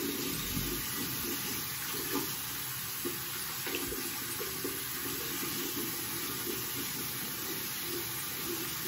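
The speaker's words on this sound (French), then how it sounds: "je mets de l'eau chaude" Hot water running steadily from a bathroom tap, a constant close rushing hiss that lasts the whole time without any break.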